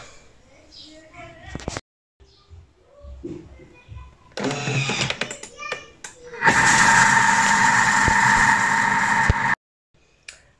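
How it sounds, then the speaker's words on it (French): A Thermomix kitchen machine whirs at speed 3 mixing cookie batter, a loud steady motor hum running for about three seconds after brief speech and clattering. "Et nous au Thermomix, donc on va donc mélanger pendant 25 secondes, vitesse 3."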